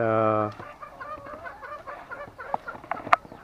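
Chickens cluck softly in short, scattered calls, one sharper squawk standing out, after a brief tonal note at the start.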